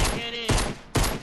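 Fortnite gunfire with a hand cannon in play, two sharp loud shots about half a second apart, each a sudden broadband crack with a short tail, close and alone between them.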